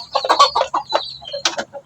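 Chickens cluck and squawk in quick, busy bursts close by as they are given starter pellet feed, several birds calling over one another in an otherwise quiet setting.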